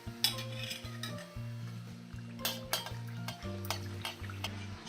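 Sweet jaggery-filled sanjori fry in oil in a pan over medium-low flame, a soft sizzle beneath repeated clinks and scrapes of a metal spoon against the pan as they are turned.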